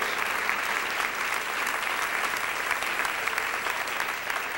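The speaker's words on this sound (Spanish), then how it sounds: "Dele un aplauso con todo su corazón." A church congregation applauds steadily during a sermon on death, dense clapping spread evenly and held at one level throughout, with no voices rising above it.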